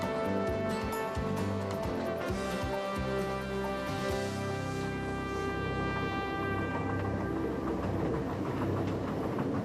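A train in the Rocky Mountains rumbles steadily along the tracks as it climbs, with rhythmic clacking early on and a continuous heavy mechanical drone close by.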